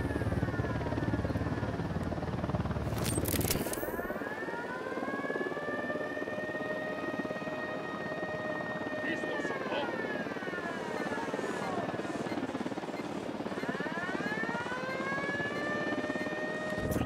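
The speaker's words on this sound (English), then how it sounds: "We got a chopper coming in." A helicopter approaches in Ghost Recon Wildlands, its rotor thrum and engine drone steady beneath rising and falling siren-like whines, with a sharp burst of noise near the start.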